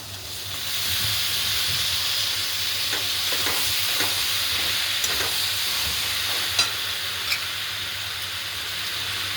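Pasta tipped into a pan of hot masala whose oil has separated, giving a steady broad sizzle and hiss with a few faint stirring clinks near the end, no talking.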